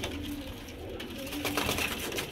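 A pigeon coos softly in a few low, throaty phrases against a quiet background hum.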